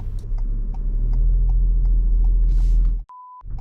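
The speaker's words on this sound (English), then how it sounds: "Now I need first gear as I almost stopped." Manual car slowing almost to a stop and shifting into first gear, a steady low engine rumble with faint mechanical clicks, ending in an abrupt cut and a short electronic tone.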